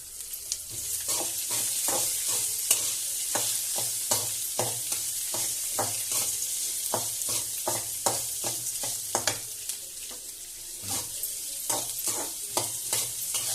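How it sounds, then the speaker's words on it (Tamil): Onions fry in a pan as the base for a ridge gourd chutney, a constant close sizzle punctuated by quick, evenly rhythmic spatula strokes scraping the pan again and again, no voices present. "வெங்காயமும் சேர்த்து நல்லா வதக்கிட்டோடனே"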